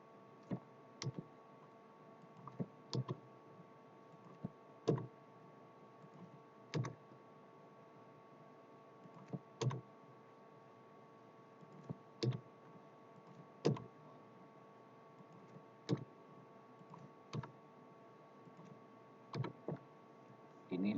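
Quiet clicking of keys on a computer keyboard during data entry, sparse irregular taps over a steady electrical hum in a still room.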